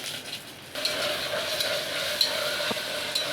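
Ginger-garlic paste sizzles in hot oil, a close continuous crackling hiss that grows louder after a moment, with occasional scraping stirs.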